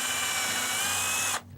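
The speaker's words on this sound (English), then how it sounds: "take your drill and drill a pilot hole" Power drill boring a pilot hole through wood to keep it from splitting: a loud, steady high whine of the motor close by that cuts off abruptly near the end.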